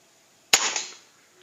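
A single sharp air rifle shot cracks out of near silence, followed by a short ringing decay.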